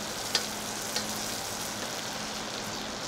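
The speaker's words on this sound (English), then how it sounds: "That nice foamy brown butter is gonna give us a beautiful crust on this." A pork chop sizzles steadily in foamy brown butter in a pan, a continuous close frying hiss with a couple of faint ticks and no talking.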